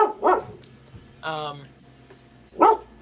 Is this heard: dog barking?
yes